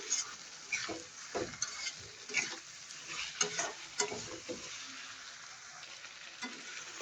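Fish pieces and a fish head sautéing in a hot pan, a steady sizzle with intermittent louder bursts of spatter and stirring scrapes, close and continuous with no voices.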